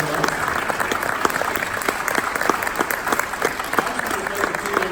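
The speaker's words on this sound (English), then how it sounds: "let's give them a round of applause." Steady applause from a crowd at a candidates forum, many hands clapping at once, sustained and fairly loud for the whole stretch.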